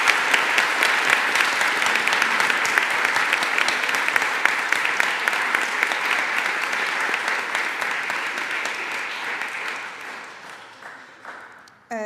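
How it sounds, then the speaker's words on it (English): An audience at an annual debate claps steadily for the debaters. The applause is dense and sustained and slowly fades toward the end. "One more time, round of applause for our debaters."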